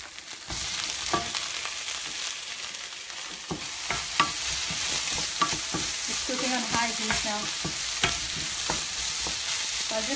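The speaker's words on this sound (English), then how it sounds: "I'll just let the tomato reduce a little." Chopped tomatoes cook down in a hot pan with a constant bright sizzle. Clicks and scrapes of stirring break in now and then, with no talking.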